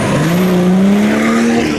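A turbocharged car shooting flames howls past at close range, a loud steady engine roar with a rising whine sliding upward across the short burst.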